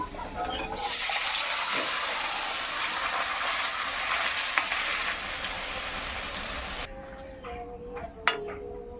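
Fish sizzle loudly in hot spice paste in a pan, a dense close frying hiss that cuts off abruptly near the end, leaving a few light clinks and scrapes.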